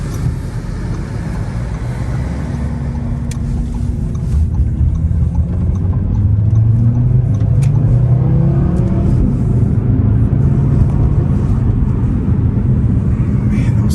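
A loud Audi RS3 with the Dynamic Plus and Black Optic packages pulls hard from inside the cabin, its engine droning and climbing in pitch through quick paddle-shifted gear changes, continuous and close.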